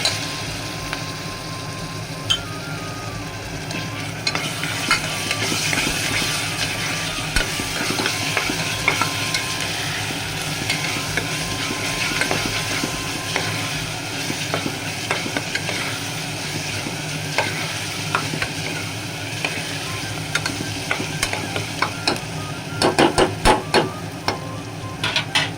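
Ginger garlic paste sautés in a pan for Guntur gongura mutton, giving a continuous close sizzle with repeated scraping and stirring clatter that grows busier with sharp taps near the end. No one speaks.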